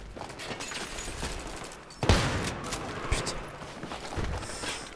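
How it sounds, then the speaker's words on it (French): A pump-action shotgun fires in the Battlefield video game on the Metro map, one sharp loud blast midway amid a busy backdrop of distant battle noise. "Il est agréable à utiliser ce fusil à pompe, mais il est presque un peu abusé"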